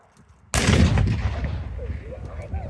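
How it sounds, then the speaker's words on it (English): A 17-pounder anti-tank gun fires a single loud, close blast at an outdoor tanks and firepower show, the sharp boom rolling into a long rumbling decay with crowd noise after. "Nice big explosion there."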